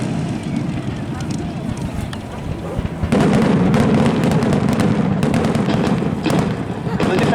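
First World War display aircraft diving in pairs over a mock trench battlefield, a loud continuous engine roar that swells midway, mixed with crackling bangs like pyrotechnic ground explosions and gusting wind on the microphone.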